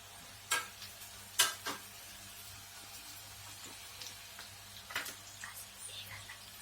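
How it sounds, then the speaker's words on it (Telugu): Onions or other biryani ingredients frying in a pan, a soft continuous sizzle with occasional louder pops and stirring clatters, fairly quiet and close. "వేగాలి అన్నమాట కాసేపు. కలర్ బాగా వస్తుంది."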